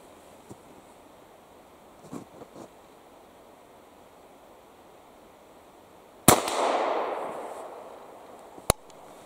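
A Remington Rolling Block rifle fires one weak-load shot outdoors, a sharp crack followed by a long rolling echo after quiet handling noises. A single short click follows a couple of seconds later.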